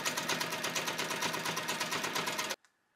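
A sewing machine runs at a fast, even stitching pace during free motion quilting on a fox appliqué, a loud mechanical chatter lasting about two and a half seconds before it stops abruptly.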